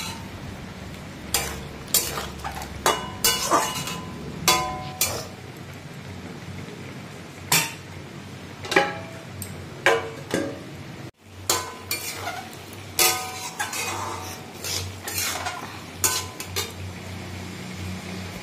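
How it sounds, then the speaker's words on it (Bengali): Potatoes, pointed gourd and soy chunks being sautéed in a pan, with a spatula scraping and knocking against the metal in irregular clatters over a steady rain-like hiss. "আর দেখো এখানে ভালো করে আলু, পটল, সয়াবিনগুলো ভালো করে কষিয়ে নিচ্ছি"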